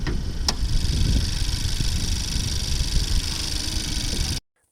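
An idling engine of a 2022 Honda Civic Sport Touring hatchback at 50,000 km, heard up close with the hood open, giving a steady, even mechanical whir and hum that cuts off abruptly at the end.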